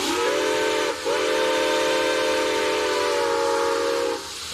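A steam locomotive's whistle sounds loud and near, a steady multi-tone blast broken by a brief gap, then continuing before cutting off, with steam hiss underneath.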